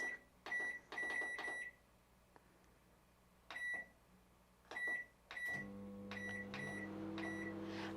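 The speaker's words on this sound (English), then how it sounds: "I'm going to microwave them for 2 minutes" Keypad beeps sound in short bursts. Then a microwave oven heating jars starts up with a steady electric hum that runs to the end.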